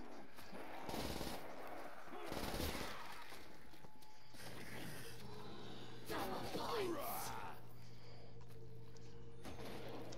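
Super Thompson gun firing in Call of Duty custom zombies, bursts of rapid game gunfire mixed with effects, heard under someone talking excitedly.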